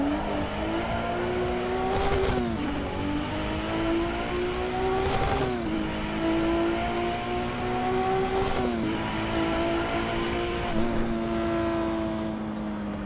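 A race car engine in Assetto Corsa EVO revs loudly and climbs through gears, pitch rising steadily then dropping at each of four shifts, with a sharp whine over the roar.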